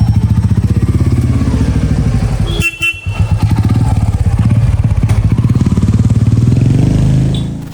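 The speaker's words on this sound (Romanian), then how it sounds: "Este o motocicletă simplă, ca 3 copeici, dar fiabilă." A simple motorcycle engine in India runs loud and close with a steady pulsing thump, briefly interrupted by a short clatter and a horn-like blip, then continues idling.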